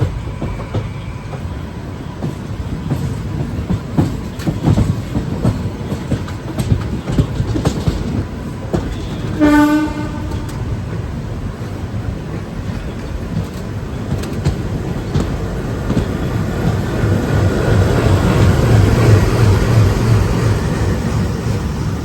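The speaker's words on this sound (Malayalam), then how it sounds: "നമ്മുടെ വഞ്ചിനാട് എക്സ്പ്രസ് അങ്ങനെ എറണാകുളം ജംഗ്ഷനിൽ നിന്ന് പുറപ്പെട്ടിരിക്കുകയാണ്" The Vanchinad Express pulls out of Ernakulam Junction in Kerala with a continuous loud rumble and rattling clatter of train cars, heard from on board. A horn-like tone sounds briefly midway and the rolling noise builds toward the end.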